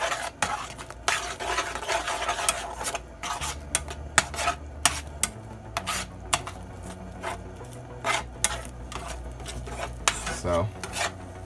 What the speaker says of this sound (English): So I just keep on stirring it until it dried out.